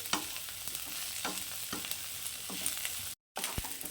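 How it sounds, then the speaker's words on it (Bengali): Cauliflower and potato fry in oil in a pan, a steady broadband sizzle broken by repeated scraping stirs of a spatula, close and fairly loud, with a brief dropout near the end. "এখন এটাকে আমি খুব ভালো করে একদম লাল লাল করে আর একটু ভেজে নেব"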